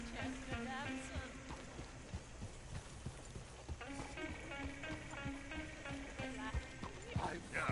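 Hooves of a horse-drawn coach clip-clop in a steady, even rhythm, mixed under tonal background music with a faint sense of voices.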